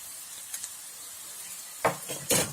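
Garlic ginger paste is stirred into melting butter in a pan, giving a soft sizzle with light scraping and a couple of louder utensil scrapes near the end, close by with no speech.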